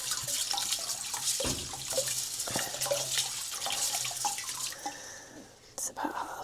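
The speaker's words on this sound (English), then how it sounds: "I'm going to put about half this amount of vinegar in here as well" Vinegar is poured into a natural dye pot, a close, continuous watery trickle and splash with a few knocks, while a person speaks softly over it.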